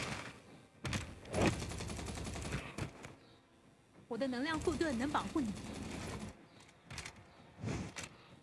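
Sniper rifle shots in the game Earth Revival crack out as scattered sharp bursts, some spaced apart and some in quick pairs, with a voice talking between them.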